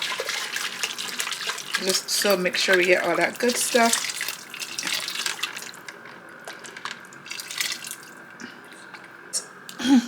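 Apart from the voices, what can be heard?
liquid poured into a saucepan for birria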